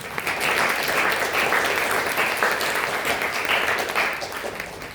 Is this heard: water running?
no